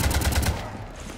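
Rapid automatic gunfire rakes the ship Normandy in Mass Effect 3, a fast burst of about five loud, evenly spaced shots up close that stops abruptly and leaves a fading hiss.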